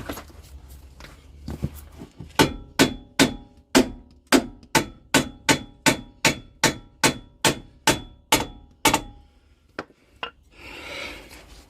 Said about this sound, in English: I'll get the right hammer, I don't want to hurt that ball joint.